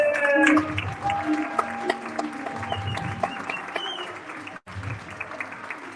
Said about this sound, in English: So start clapping your hands.